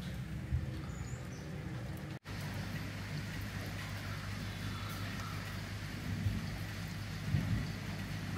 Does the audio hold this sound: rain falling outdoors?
yes